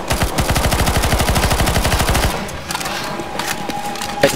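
Rapid automatic gunfire from CS:GO Zombies, loud and close, pours out in a steady stream of shots for about two seconds, then stops and leaves quieter game ambience with a faint tone and scattered small clicks.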